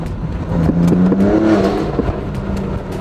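A BMW M2's exhaust rumbles and revs close by, the engine note climbing briefly before easing back to a low burble.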